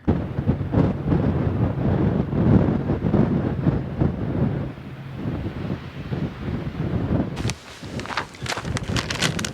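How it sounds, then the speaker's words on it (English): Blustery, cold wind in Death Valley ahead of an incoming storm, buffeting the microphone in loud, gusting roars throughout, with a sharper crackling burst near the end. "the wind is still blustery and it's cold"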